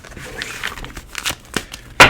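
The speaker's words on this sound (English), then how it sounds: "Bear with me as I shuffle again." A deck of tarot cards being shuffled by hand, heard as scattered crisp riffling and papery crinkles in short irregular bursts, ending in one sharper, louder flutter; no talking.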